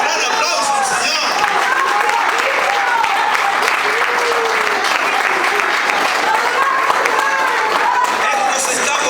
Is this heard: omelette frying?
no